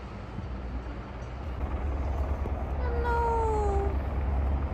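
A single drawn-out cat meow rises clearly over a steady low engine drone, fairly close and distinct against the constant background hum.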